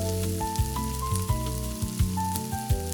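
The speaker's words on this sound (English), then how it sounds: "Carefully mix all the ingredients so the tomatoes distribute evenly and start releasing their aroma." Onion, garlic and sun-dried tomatoes sizzle steadily in a frying pan as they are mixed, with a few sharp scraping knocks from stirring and background music playing.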